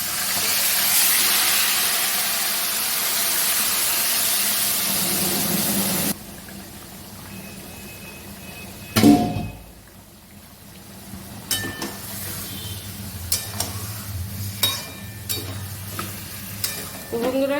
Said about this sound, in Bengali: মশলাটা ভাজা ভাজা হয়ে গেছে, গরম মশলা, চিকেনটা ঢেলে দিলাম।